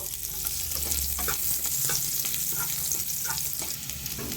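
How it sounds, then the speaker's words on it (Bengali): Chopped garlic, onion and green chilli frying in oil left over from frying chicken, a steady close sizzle with intermittent stirring scrapes, no talk. "পেঁয়াজ কাঁচা লঙ্কা রসুন ভেজে নিয়েছি"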